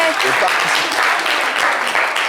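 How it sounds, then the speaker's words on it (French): A studio audience on a live Ivorian variety show claps loudly and continuously, the crowd applause swelling near and full, with scattered voices mixed in at the start. "Applaudissez fort pour lui, s'il vous plaît"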